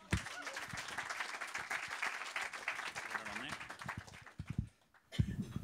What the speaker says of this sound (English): Round of applause for Craig.